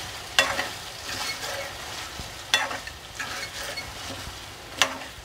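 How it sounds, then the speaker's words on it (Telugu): Pepper chilli chicken frying in a pan, with steady sizzle under three sharp scraping stirs of the spatula spaced a couple of seconds apart, close and moderately loud. "ఒకసారి తిప్పుకుందాం."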